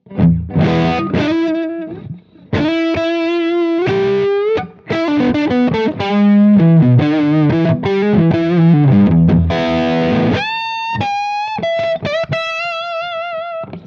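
Electric guitar on its neck pickup, played through distortion and effects, loud and warm with sustained notes, bends and quick melodic runs, broken by a few short pauses.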